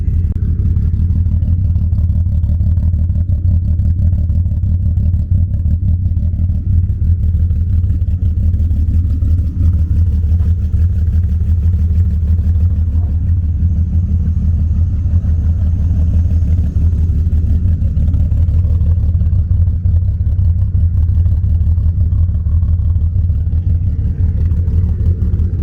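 A loud car engine, by a BMW E36 convertible, runs continuously up close, a heavy low rumble that stays fairly steady for the whole stretch with little obvious revving and no voices over it.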